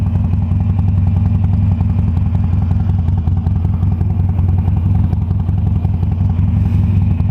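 Loud, close rumble of a Harley-Davidson Sportster Roadster motorcycle being ridden, a constant throbbing low engine note with fine mechanical clatter, steady throughout with no speech.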